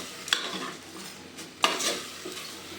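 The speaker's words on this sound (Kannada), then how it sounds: "ಅಟ್ಲೀಸ್ಟ್ ಒಂದು 10 ಮಿನಿಟ್ಸು ಈ ರೀತಿ ಚೆನ್ನಾಗಿ ಮಿಕ್ಸ್ ಮಾಡಿ ಕುಕ್ ಮಾಡಬೇಕು." Vegetables and green gram frying in oil are stirred in a pan, with two sharp scrapes of a utensil against the metal over a steady, close sizzle.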